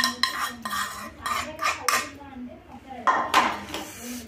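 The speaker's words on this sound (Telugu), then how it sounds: "ఇప్పుడు దీంట్లో నేను పోపు కలుపుతాను చూడండి" Tempering stirred into an onion and ridge gourd chutney, giving repeated metal spoon clinks and scrapes against a bowl in short bursts, close and fairly loud, with a brief faint voice between strokes.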